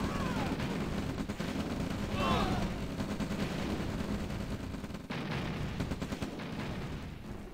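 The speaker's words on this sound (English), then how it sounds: "And the V2 rocket launcher's coming in." V2 rocket launchers fire in a strategy video game, and a roll of distant rumbling artillery blasts and whooshing launches runs over a steady battle din.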